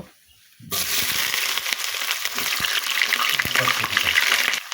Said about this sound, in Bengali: তেল গরম হয়ে গিয়েছে এখন এক কাপ মতো পেঁয়াজ কুচি আর গোটা মরিচ প্রায় পনেরোটা মতো দিয়ে দিব